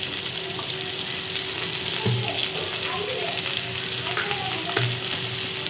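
Squid sizzles and fries in coconut oil on a tawa, a steady, close crackle with a few clinks of a utensil stirring through it, no talking.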